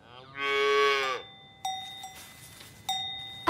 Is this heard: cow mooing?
yes